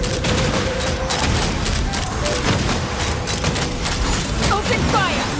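Rapid, dense gunfire from the video game Genshin Impact, sustained and loud throughout, layered with mechanical clatter and game effects.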